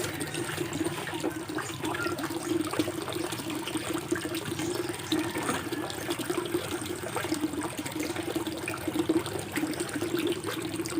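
Aquarium water draining steadily after a PVC pipe is removed during a tank water change, a continuous moderate gushing and trickling wash that runs unbroken throughout.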